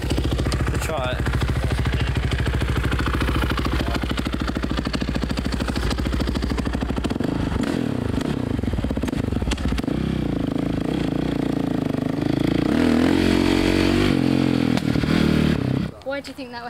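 A motorcycle engine cranks over and revs in steady, loud bursts, with a rougher, uneven stretch partway through before it cuts out near the end.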